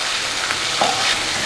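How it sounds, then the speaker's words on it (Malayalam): Crushed ginger and garlic sautéing in hot coconut oil: a close, continuous sizzle and crackle with a faint stir partway through, heard alone without talking. "ഇഞ്ചി വെളുത്തുള്ളി ചതച്ചത് ചേർത്ത് കൊടുക്കാം. നന്നായിട്ടൊന്ന് വഴറ്റി കൊടുക്കുക"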